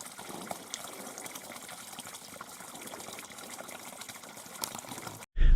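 Stream water running steadily at a backcountry campsite water supply, a continuous close gushing and splashing that holds even for about five seconds before cutting off abruptly.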